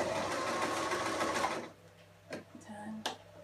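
Sewing machine running in a fast continuous whir while stitching, then stopping, followed by a few short clicks and brief bursts as it reverse stitches; a voice speaks softly over it.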